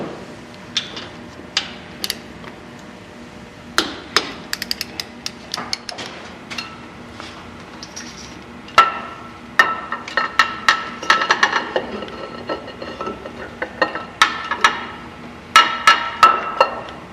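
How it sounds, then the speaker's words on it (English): Metallic clicks and taps ring out as rocker box bolts are tightened with a torque wrench on a Harley Fuel Moto 107 big bore engine; sharp, close, irregular bursts separated by short pauses. "The torque is 18 to 22 foot-pounds, and the sequence is going to be 1, 2, 3, 4"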